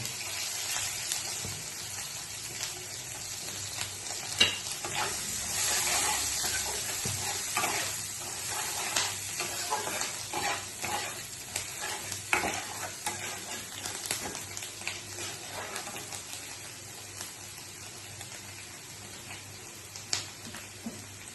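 Ginger and garlic sizzle and fry steadily in a hot pan for the whole stretch, a constant crackling hiss with occasional sharper pops and faint stirring scrapes, close and with no talk over it.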